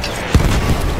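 A single heavy grenade blast in Battlefield 1 thumps out with a deep, short boom amid ongoing low battlefield rumble.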